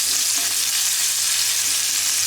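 Red chilies and chopped onion with a pinch of salt are tempered in a hot pan, giving a steady, close, continuous sizzle of frying.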